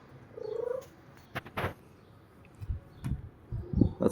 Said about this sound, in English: that's my cat Lucy